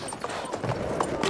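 A horse in the Battlefield 1 video game, its hooves clip-clopping in a quick, steady rhythm at moderate volume under faint game noise.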